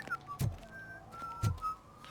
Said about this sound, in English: Whistling at that frequency, dude, is dangerous to the ears.